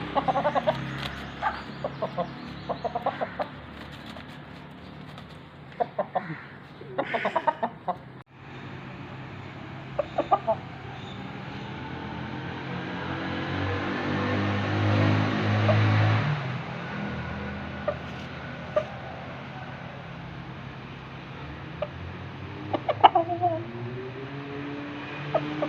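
An Aseel rooster clucks in short, scattered bursts nearby, with quiet ambient background between the calls.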